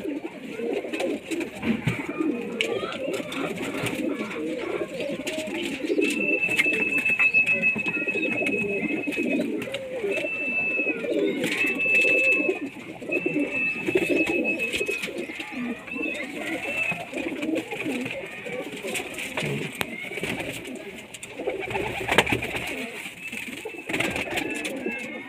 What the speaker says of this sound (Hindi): ये टैडी कबूतर है जी।